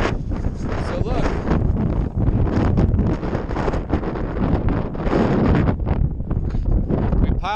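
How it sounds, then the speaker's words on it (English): Strong wind buffets the microphone at a desert campsite near red rocks, a loud, continuous broadband roar with gusty swells and rumbling low-end distortion throughout. "It's super windy now."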